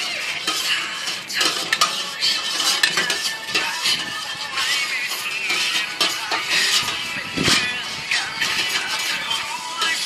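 Stirring a mixture for Thai pickled guava with a utensil in a bowl, a steady busy run of scraping, clinking metal-on-dish sounds for about ten seconds, close and fairly loud with no speech.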